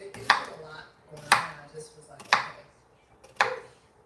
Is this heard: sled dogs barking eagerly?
no